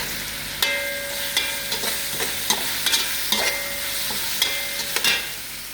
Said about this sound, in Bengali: এখন দিয়ে দেবো কারি পাতা, ইন্ডিয়ান আর কি, এটা দিলে মশলা আর কি এক পদের ভালো একটা গ্রান আসবো